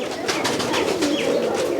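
Rajshahi Pilong pigeons coo softly at a loft, their low burbling calls layered with faint chirps in a brief, continuous stretch close by.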